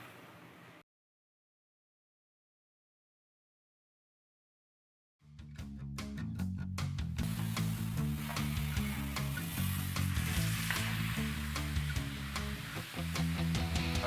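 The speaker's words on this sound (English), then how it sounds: "now that the beef is searing, it's gonna take roughly about 10 to 12 minutes" Beef searing in a hot pan gives a steady, loud sizzle after a few seconds of silence, starting with a handful of sharp pops and crackles before settling into continuous frying noise.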